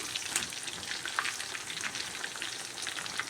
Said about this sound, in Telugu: నూనె వీటెక్కిందండి. వేస్తున్నా. చూడండి, వేసినా కదండి. గోల్డ్ కలర్ వచ్చేంత వరకు వేపుకుందామండి.